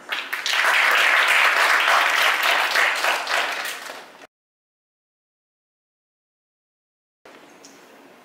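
A lecture audience at Rice University's Scientia Institute claps in a full, dense burst of applause that swells and fades over about four seconds, then cuts to silence before a quieter stretch of room sound.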